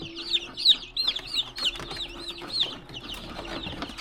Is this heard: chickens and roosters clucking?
yes